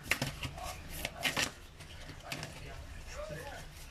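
Playing cards are shuffled and drawn in a fortune-telling reading, a few quick riffling flutters and soft slaps up close, with a voice speaking in between.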